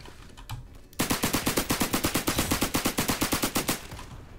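A suppressed Tommy gun fires in the Roblox game Criminality, one long rapid automatic burst of evenly spaced muffled shots, loud and close, after a few faint clicks.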